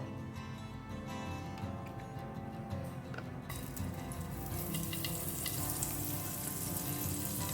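A tablespoon of butter melting into hot oil in a pan, sizzling steadily and faintly, then growing into a brighter, louder frying hiss partway through, with no voices.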